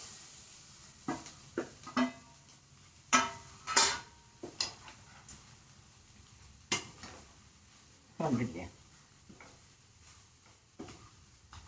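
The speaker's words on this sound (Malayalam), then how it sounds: "നന്നായി അങ്ങോട്ട് ഇളക്കി കൊടുക്കുക." Bread upma being stirred and fried in a pan, with quiet sizzling beneath scattered scrapes and clinks of a spoon against the pan in irregular bursts, heard close, without talking.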